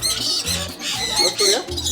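Loud, close squawking from a group of parrots in an aviary at a bird park, harsh overlapping calls in quick bursts that fill the whole moment.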